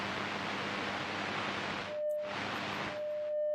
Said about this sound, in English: You can hear some static on the radio for now since we're not tuned correctly.